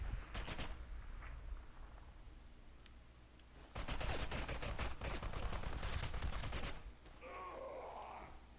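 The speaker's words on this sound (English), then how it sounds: "Who's shooting?" Gunfire in the video game Blacksite Area 51: a short burst of rapid shots, a quiet pause with a couple of faint pops, then a longer sustained automatic volley before fading into a lower rumble.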